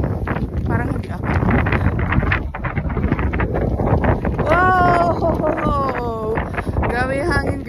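Strong wind at the top of a fortress in Suwon, South Korea, buffeting the microphone in a steady rushing roar while people talk over it.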